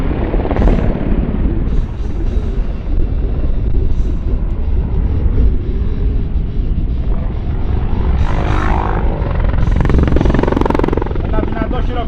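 An Apache Delta attack helicopter passes at an air show, a loud continuous rotor and engine roar that holds steady and rises slightly as it nears, with an announcer's voice faintly over it.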